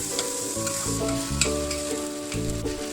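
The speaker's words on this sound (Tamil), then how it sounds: "அப்பப்போ கொஞ்சம் கொத்தி விட்டுக்கலாம்" Kothu parotta chopped and stirred on a hot pan over medium flame, with a steady close sizzle of frying and repeated rhythmic scraping strikes of the utensil throughout, no voices.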